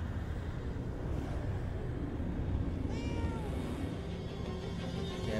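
A cat meows in the video game Murdered: Soul Suspect, one clear rising-falling meow midway over a dense rumbling game background, no talk.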